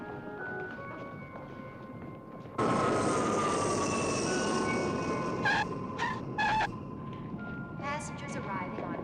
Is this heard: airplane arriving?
yes